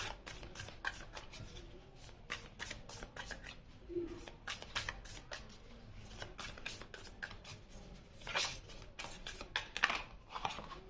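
Tarot cards being handled and shuffled during a reading, a fairly quiet run of soft, papery flicks and slides in irregular bursts, with no talking.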